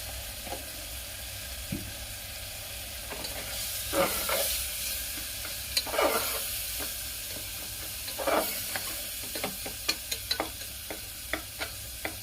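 Steady sizzling from a hot pan frying homemade sambar masala, with intermittent scraping and stirring clatter from a utensil, close by and with no voices.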